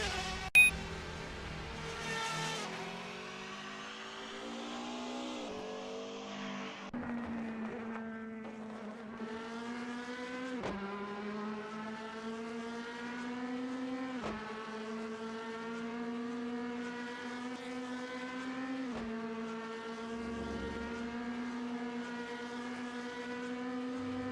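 A race car in a DTM racing sim video game drives through Castrol, its engine droning and climbing in pitch through repeated gear shifts, each upshift dropping the tone before it rises again, steady and close for a long stretch.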